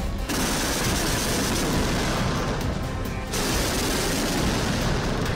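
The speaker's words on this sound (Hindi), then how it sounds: "जो आर्टिलरी फायरिंग हो रही है" Continuous loud rapid gunfire or artillery firing from Chinese guns in a military drill near Taiwan, a dense unbroken barrage with a brief gap near the start, no voices.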